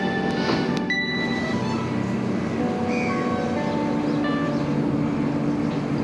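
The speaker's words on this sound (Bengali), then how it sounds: "আমাদের ট্রেন গালগালিয়া ছেড়ে এই মুহূর্তে রওনা দিল তার পরবর্তী গন্তব্য নকশালবাড়ির উদ্দেশ্যে।" Kanchankanya Express pulling out of Galgalia station, heard from on board as a steady rumbling drone with faint metallic squeals and clanks, continuous and even in level.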